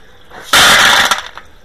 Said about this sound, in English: I'm going to do my very best just to rinse the scud right out of the slots in the bottom